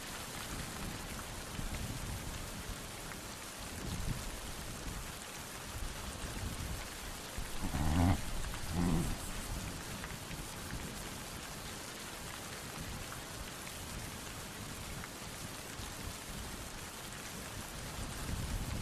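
Autumn rain falling on open grassland grazed by Pottoka horses: a steady dense hiss of rain throughout, with a couple of brief low thumps near the middle, no voices.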